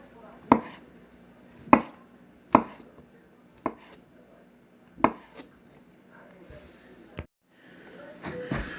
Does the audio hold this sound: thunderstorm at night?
no